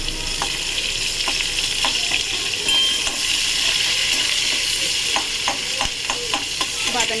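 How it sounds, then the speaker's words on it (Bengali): A small, medium-sized chopped onion fries in oil with a constant sizzle, while a utensil scrapes and clinks against the pan in irregular stirring taps, close and fairly loud. "তো আমি এই তেলে পেঁয়াজ, একটা ছোট মিডিয়াম সাইজ পেঁয়াজ কেটে রেখেছি, এটা দিয়ে দেবো।"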